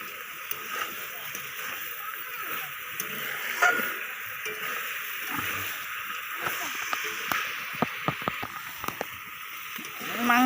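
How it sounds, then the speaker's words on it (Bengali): Potatoes and heron meat stir-fried in a pan make a continuous low sizzle, broken by scraping spoon strokes and scattered clicks, with louder stirring near the end. "এবার এর সঙ্গে আলুগুলো দিয়ে ভালো করে কষে নেব"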